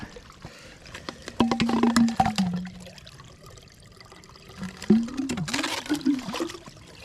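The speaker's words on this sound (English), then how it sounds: "There's a stream nearby." Water from a stream near a rainy, windy hammock campsite in Rhode Island, a close splashing and trickling in two short bursts separated by quieter running sounds.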